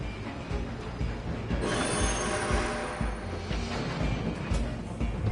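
A steam-era train in Red Dead Redemption 2 rumbles along loud and close, its wheels grinding and squealing on the rails in a steady mechanical clatter with no talking.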